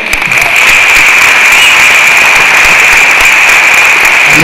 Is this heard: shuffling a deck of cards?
no